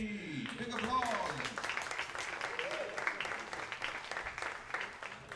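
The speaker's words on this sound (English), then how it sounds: "And a big applause for the best shot of that round." Applause rises from spectators at a shooting competition, a soft, steady patter of clapping from a crowd heard at a distance, mixed with voices talking over it.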